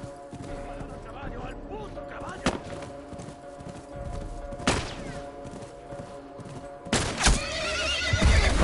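Horses in The Last of Us Remastered neigh and whinny repeatedly amid bursts of gunfire and thuds, with a person shouting over the commotion.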